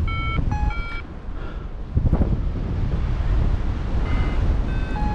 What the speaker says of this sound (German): Jetzt kommt hier nochmal eine Böe durch, aber die ist ein bisschen ruhiger als eben.